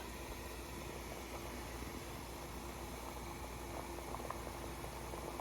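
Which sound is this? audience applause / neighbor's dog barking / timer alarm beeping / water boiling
water boiling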